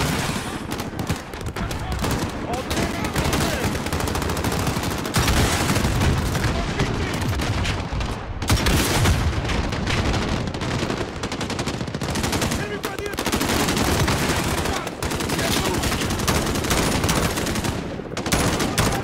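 Sustained friendly gunfire in Call of Duty: Modern Warfare, with dense, continuous bursts of rifle and machine-gun shots that build to loud, near volleys over the whole stretch and are never left silent.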